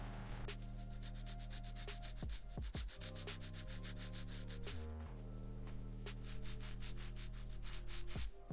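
A polishing machine hums steadily while doing paint correction on a 1972 Volkswagen Beetle. Its motor drone holds at a fairly low level, shifting pitch in several steps as the speed changes, with a faint rubbing hiss over it.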